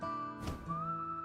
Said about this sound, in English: They would never respond to a lackluster whistle like that.